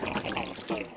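Water drawn through a pipe by a venturi fitting for drip irrigation, a loud close gurgling trickle and rush that runs steadily for a moment.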